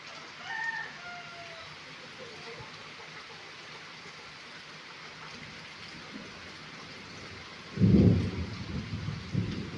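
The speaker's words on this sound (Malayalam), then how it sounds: "ഇടി മുഴങ്ങുന്നത് കേട്ടോ" Thunder rumbles in a rainstorm with strong wind, a deep, loud roll arriving near the end over a steady hiss of rain, with a faint bird call early on.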